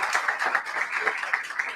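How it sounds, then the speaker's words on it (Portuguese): A church congregation bursts into steady, dense applause and clapping that fills the space at an even level throughout, with voices faintly mixed in. "Pode dar um aplauso a Jesus sobre isso."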